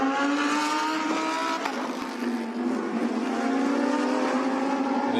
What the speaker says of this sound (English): Afik Yazid, though, is giving chase and catching the pair of them in number 38 entry.